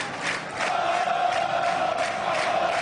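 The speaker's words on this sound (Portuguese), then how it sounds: "Canta a torcida bicolor" Paysandu supporters sing together in a football stadium, a steady distant crowd chant sustained at moderate level with no commentary over it.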